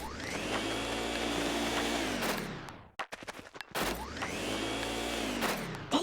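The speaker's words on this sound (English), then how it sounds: "the Poltergust 3000. It can suck up all kinds of things" Poltergust 3000 vacuum from the Luigi's Mansion video game roaring with a loud, steady whooshing suction, cutting off briefly into sputtering bursts before surging back on at full strength.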